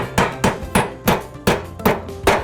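Roofing nails hammered through bent sheet metal into 1.5-inch pressure-treated lumber, seven sharp ringing metallic blows at an even, quick rhythm, loud and close with no talk.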